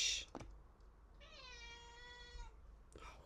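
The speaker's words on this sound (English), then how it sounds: "We have a cat again." A house cat gives one clear, drawn-out meow of about a second, fairly close and moderately loud, with brief faint clicks and rustles before and after it.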